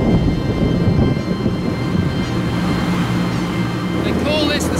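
Thunderstorm with lightning over open water, heard from a metal boat: a continuous low rumble with heavy rain-like noise fills the whole stretch, loud and steady without distinct individual thunderclaps.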